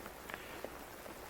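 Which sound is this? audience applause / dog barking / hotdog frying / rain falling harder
rain falling harder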